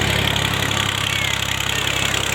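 Tractor engine running near a hillside maize field in rural Himachal: a steady, close mechanical drone with a rough, even pulse and no voices.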